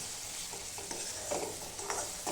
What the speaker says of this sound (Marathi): मिक्स पावडर पण तेलामध्ये चांगली फ्राय करून घ्यायची